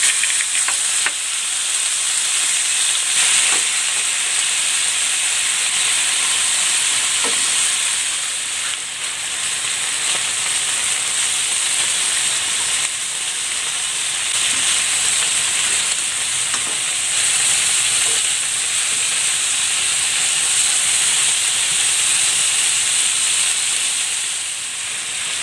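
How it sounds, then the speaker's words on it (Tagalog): Pork ribs fry in hot cooking oil, giving a steady, loud sizzle and hiss that runs unbroken for the whole stretch, with a few faint clinks and stirring sounds beneath it. "Maglalagay ako ng cooking oil. Ipan-fry ko muna itong pork ribs."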